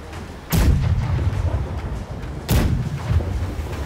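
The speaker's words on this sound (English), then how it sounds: "Sound the cannons!" Ship cannons fire in the pirate naval game Blackwake, two heavy booming blasts about two seconds apart, each with a deep rumbling tail, loud and close with no talk.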